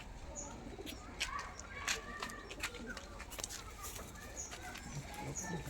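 Faint, soft cooing of pigeons comes through a quiet, rustling room, with occasional clicks and wing shuffles and a murmur of voices.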